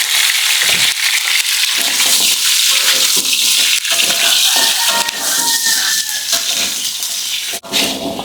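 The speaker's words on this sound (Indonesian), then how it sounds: "lanjut kita mau tumis bawang putih biar lebih wangi" Garlic sizzles and crackles loudly as it is stir-fried in a pan, with steady dense frying noise and occasional scraping stirs throughout.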